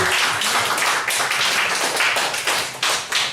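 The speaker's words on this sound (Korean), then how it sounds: "우리 하나님께 영광 박수 올려드립시다" A church congregation claps together in a steady, loud patter of overlapping hand claps that carries on for several seconds, with little else heard over it.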